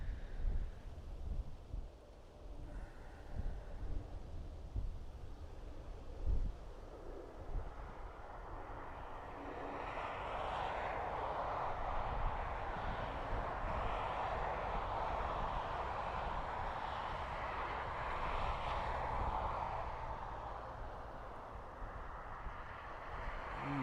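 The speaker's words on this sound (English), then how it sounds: "I can hear a prop the other side of the airport" A propeller aircraft's engine drones from across Dublin Airport, a broad steady roar swelling in the middle and holding loud to the end over wind and distant rumble.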